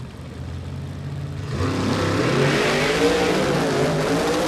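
A Super Sedan drag car with a 615 cubic inch engine spins its tyres briefly, then launches at Warwick Dragway, its engine building into a loud, sustained roar after a quieter idle. No talk.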